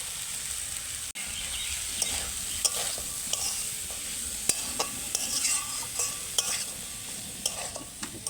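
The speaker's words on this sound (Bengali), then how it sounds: "এবার এর মধ্যে কেটে রাখা ফুলকপিগুলো দিয়ে দিচ্ছি।" Chopped cauliflower frying in a pan for a Mughlai paratha filling gives a low steady sizzle, broken by repeated sharp spatula clicks and scrapes as it is stirred, with no talk.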